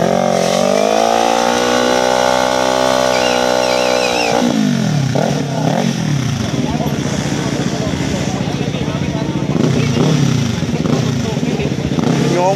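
Yamaha drag racing motorcycle at a drag bike event, its engine revving loud and close with rising and falling pitch, under an announcer's talk and crowd noise.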